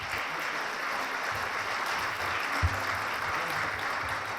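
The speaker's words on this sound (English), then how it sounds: "Please join me in giving them all a round of applause." Crowd at a school ribbon-cutting celebration claps steadily, a broad even wash of applause from a moderately distant audience, outdoors or in a large space, with a brief low thump partway through.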